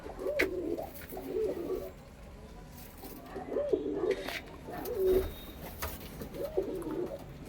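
White-eyed pigeons coo in a repeated series of soft, low, rolling calls at moderate distance, with quiet background rustle between phrases.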